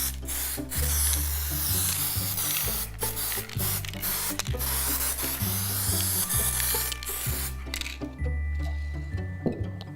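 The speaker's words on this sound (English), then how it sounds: "using the static grass layering spray, we're going to start layering up now of different colors" A static grass layering spray is sprayed repeatedly over model railway hills and embankments, producing a close, continuous hissing broken into short bursts over a steady mechanical hum.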